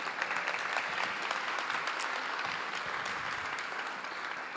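An audience at a preservation awards ceremony applauds elected officials in a steady, continuous round of many hands clapping, moderately loud and even throughout, with no one speaking.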